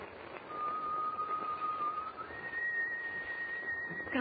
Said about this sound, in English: Whoever's whistling is standing right outside on deck.